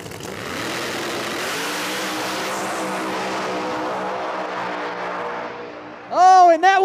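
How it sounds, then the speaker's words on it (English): No-prep street outlaw drag race cars at a race in Hebron, Ohio, a sustained loud engine drone that rises in pitch as they accelerate, ending with a sharp high whine. "was a drag race, but Giuseppe gets there first."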